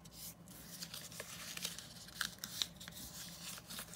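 Paper scraps are folded by hand into a small accordion-style envelope, giving close, soft rustling and crinkling with a few sharp little creases and taps.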